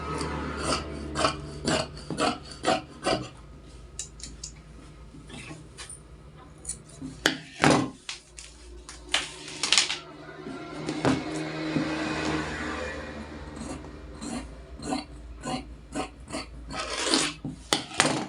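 Scissors snip through blouse fabric during freehand tailoring cutting, a close, steady run of dry rasping cuts with short pauses between strokes and no talking.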